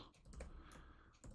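Quick typing on a computer keyboard, a short burst of light clicking keystrokes with no speech.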